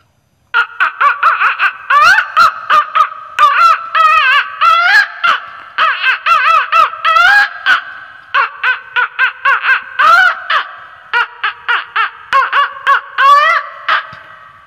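A voice imitates a hen cackling after laying an egg, with loud, close, rhythmic bursts of squawking clucks repeated through the whole stretch.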